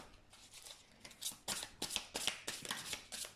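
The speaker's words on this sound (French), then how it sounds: "On va retirer une carte." A tarot card pulled from the deck after a shuffle: quick papery riffles and soft slaps in clustered bursts, close up and quiet, with nobody talking.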